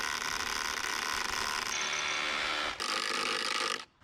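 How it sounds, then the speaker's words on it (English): A hammer drill bores into material during crawl space work, running at a steady, loud, continuous whine close by, with a brief dip near the end before it stops. "Time for my favorite tool again, the good old hammer drill."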